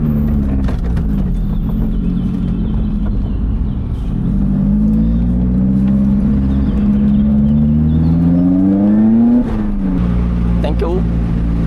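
Lotus sports car driven hard on a winding rally road, its engine rising and falling through repeated rev sweeps with a gear change, close and loud from inside the cabin while someone talks over it.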